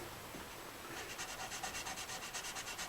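Guitar frets rubbed with 400 grit sandpaper, a faint close scratching that settles into a steady back-and-forth rhythm of quick strokes after the first second, with no talking.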